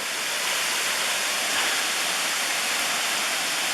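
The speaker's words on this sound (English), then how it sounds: "I guess this is the Tom Branch Falls." Tom Branch Falls, a waterfall on a hillside in the Great Smoky Mountains, pours with a steady, loud broadband rush, constant and unbroken throughout with no voices.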